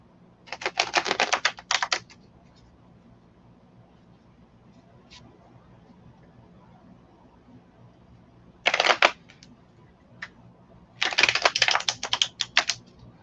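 Cards are shuffled in three quick riffling bursts, close and crisp, separated by near-silent pauses with a faint background hum.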